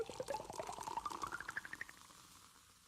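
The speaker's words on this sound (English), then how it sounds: "that is the sound of a pop and pour of a soda" A synthesized soda pop-and-pour effect: a rapid run of bubbly, fizzing pulses rising steadily in pitch like liquid filling a glass, then fading into a soft hiss, heard alone and quiet.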